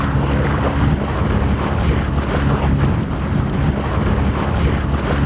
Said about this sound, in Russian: Рев мотора, расслабляющий ветерок и освежающие брызги воды.